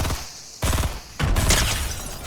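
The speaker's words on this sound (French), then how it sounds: "Allez, je le canarde au fusil d'assaut." An assault rifle fires in Fortnite in two loud, rapid bursts of close gunshots, with a short pause between them and a fading tail after the second.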